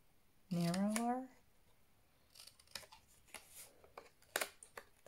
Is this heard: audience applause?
no